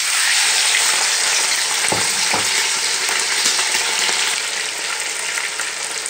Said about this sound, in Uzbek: Go'shtni ham to qizarmaguncha qovuramiz, qovurishni davom etamiz.